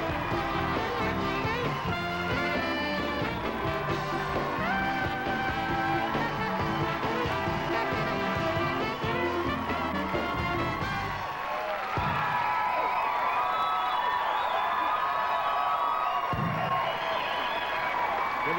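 A television studio audience at a 1992 talk show claps and cheers for comedian Dana Carvey, a dense roar of applause and whoops with voices over it, dropping away partway through and then surging again.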